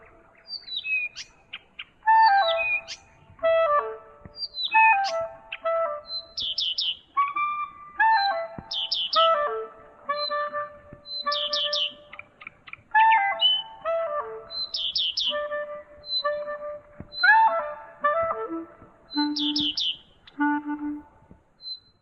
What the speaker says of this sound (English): hundreds of cartoon videos of the song of this bird